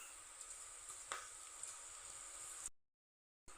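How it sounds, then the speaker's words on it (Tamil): Onion pakoda frying in hot oil gives a soft, steady sizzle with faint crackles and small pops, close and quiet, then breaks off into silence before resuming. "ஆயிலில் நாம் போட்டு எடுத்துடலாம்."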